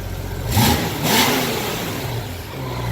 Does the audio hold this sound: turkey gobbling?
no